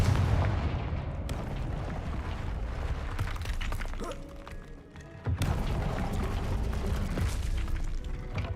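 In the video game Hogwarts Legacy, the Confringo fire spell goes off in a series of booming blasts with crackling impacts. A deep explosive surge opens the clip, and after a brief lull a second strong burst hits.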